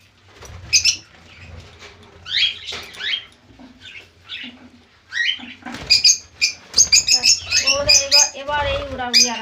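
Pet birds flapping and moving about in an enclosure, with bursts of wing fluttering and scratchy chirps and calls close by, growing busier and louder toward the end.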